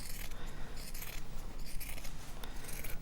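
Household scissors cutting fabric at a sewing table, giving a steady run of soft, crisp snipping and rasping close by, with no talk.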